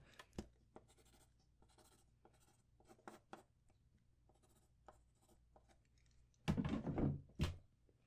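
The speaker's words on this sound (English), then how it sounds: "I'm definitely going to have to write that one down" Pen or pencil writing notes by hand in a quiet room, with soft intermittent scratches and light taps, then a louder rustling burst near the end as the paper or notebook is handled.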